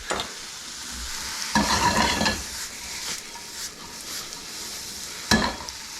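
Bacon frying and rendering in a pan for spaetzle with cabbage and cheese, a steady crackling sizzle with several louder bursts of stirring and scraping.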